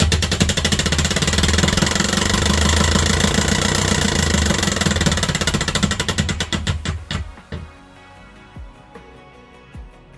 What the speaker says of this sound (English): A power supply activates the electric motor.